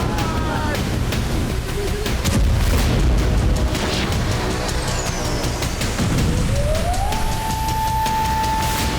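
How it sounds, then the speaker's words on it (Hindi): Deep explosion booms and rumbling blasts roll through heavy wind-like noise in Kyiv, followed by a rising tone that settles into a steady wail. "रूस के विस्फोट से कीव लगातार 6 घंटों तक दहलता रहा।"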